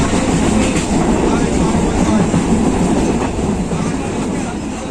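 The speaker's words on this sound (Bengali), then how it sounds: "ট্রেন স্টেশনে ঢুকবে" A passenger train running into a station, heard from inside the carriage: a loud, close, continuous rumble and clatter of wheels on rails that holds steady throughout.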